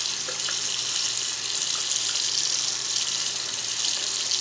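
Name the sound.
water running from a tap to wet a brush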